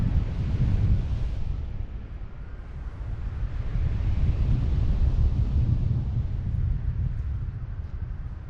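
Strong wind blows up a sand dune from Cap Ferret, a continuous heavy low roar buffeting the microphone, loud and steady with no voices.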